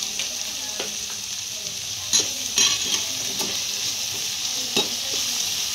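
Spring onion, cabbage and capsicum stir-fried over a high flame for Schezwan chicken fried rice give off a steady, close sizzle, broken by a few sharp scrapes and clinks as the pan is stirred.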